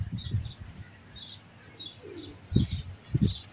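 Soft low cooing from pigeons, a few short bursts with the clearest pair near the end, alongside faint high chirps in a quiet outdoor setting.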